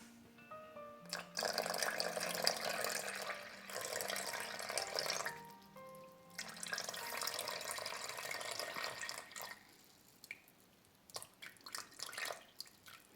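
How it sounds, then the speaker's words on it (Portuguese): Ice-cold water pours from a container into a bowl sitting on a kitchen scale while hot dog bread dough is being made, a close, steady splashing trickle that stops, starts again, and ends in a few drips. "Agora eu vou colocar 215 ml de água."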